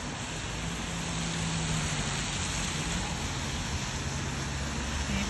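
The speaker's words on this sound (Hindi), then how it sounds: "यहाँ 5-6 दिन तक पूरा बारिश ही बारिश है" Steady rain pours onto a street at night in Korea, a dense continuous hiss with faint low rumbles of passing traffic underneath and no voices.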